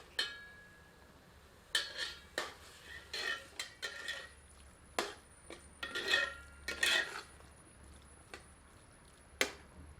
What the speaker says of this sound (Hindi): सबको अच्छी तरह मिला देते हैं।